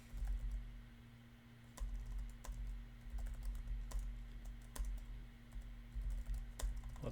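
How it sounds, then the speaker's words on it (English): Rapid keystrokes tap on a computer keyboard in quick bursts, close and quiet over a steady low hum. "it's turning into a typing exercise for me"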